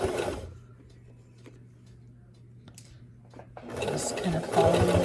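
Sewing machine running a single straight stitch through repurposed denim jeans, a quick steady whirring patter starting and stopping, with a quieter pause between bursts and talking over parts of it.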